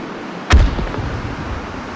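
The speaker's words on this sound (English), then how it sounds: "Fire a celebratory rocket for our victory" A rocket launcher fires in the VR shooter H3VR: one loud, sharp blast at close range, followed by a rumbling tail that fades slowly.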